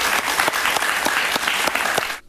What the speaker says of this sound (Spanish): yo pido un cariñoso aplauso para ella